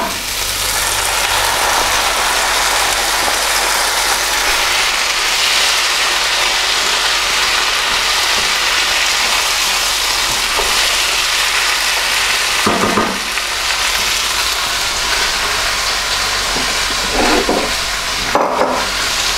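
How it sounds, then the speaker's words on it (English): Chopped tomatoes from a tin tipped into a pan of frying onions and peppers, giving a loud, dense, continuous sizzle with a few brief stirring scrapes and knocks near the end. "The next thing is to add the tin of chopped tomatoes."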